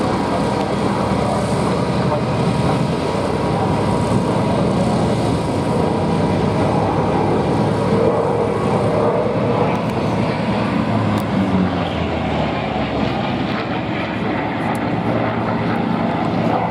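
A Grumman Bearcat propeller fighter flies at the Duxford Flying Legends air show, its piston engine drone loud and sustained throughout, rising and easing slightly as the plane passes.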